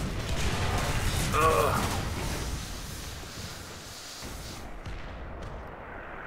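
Artillery shells landing near a Japanese Chi-Nu II medium tank in War Thunder: a heavy, rumbling blast swells early on, then a long broad roar that slowly fades, with a brief groan from a voice over it.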